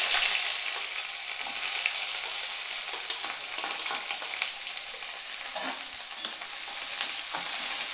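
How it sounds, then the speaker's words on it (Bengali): Chopped onions sizzle steadily in a hot pan with no talk, while repeated stirring adds soft scraping and rustling over the constant frying hiss. "পেঁয়াজটা দিয়ে আমি একটু নেড়ে নিচ্ছি একটু ভাজা ভাজা পর্যন্ত আমি ভেজে নেব"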